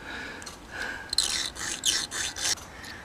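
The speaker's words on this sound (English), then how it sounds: "I'm just cutting these ridges in randomly, really, just see what happens, see if it'll work." File rasping ridges into a bobby pin to make a lock-pick rake: a series of short, close scraping strokes in an irregular rhythm, fairly quiet, with no talk.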